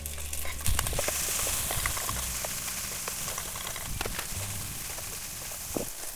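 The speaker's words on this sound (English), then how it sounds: "At this point, we can add the rice." Rice added to a hot pan for zarda with cloves, giving a soft sizzle and scraping stir strokes that repeat over a steady frying hiss.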